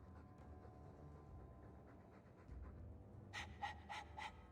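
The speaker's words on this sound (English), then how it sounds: "All that noisy dog breath, day in, day out. Make him stop." Dog panting in the video game Dragon Age 2, a steady rhythmic breathing that runs throughout and grows louder near the end, with no talk.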